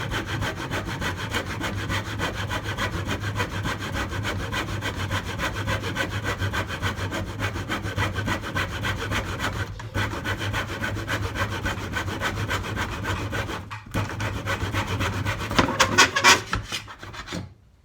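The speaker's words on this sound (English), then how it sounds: "And then we're gonna go ahead and saw it." Wood being cut with a handsaw in a miter box, a steady rasping back-and-forth stroke rhythm running continuously and close up, growing a little louder and scratchier toward the end of the cut before stopping.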